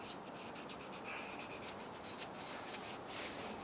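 Heated oil being rubbed into a wooden kuksa with a cloth, a soft, continuous close-up scrubbing with steady back-and-forth strokes and no talking.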